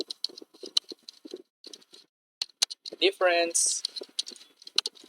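Rapid clicks of fingers typing on a computer keyboard while entering program code in a computer class, coming in short irregular bursts close to the listener, with a brief voice partway through.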